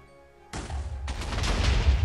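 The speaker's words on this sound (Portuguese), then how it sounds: "Deixa eu ver o barulho da explosão." An explosion in a Minecraft Sky Wars match bursts in suddenly after a quiet moment, followed by a second blast and a rumbling, crackling tail of debris that keeps building in loudness.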